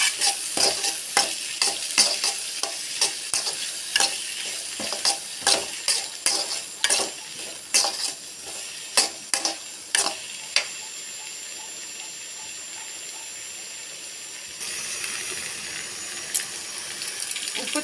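Large tomatoes frying in a pan, stirred with a regular series of sharp scraping and tapping strokes over a soft sizzle, close and clear with no voices.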